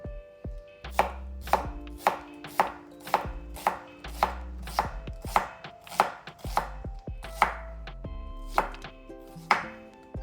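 Knife chopping onion on a cutting board for mortar-and-pestle guacamole, about a dozen sharp, evenly spaced chops close by, with no talking.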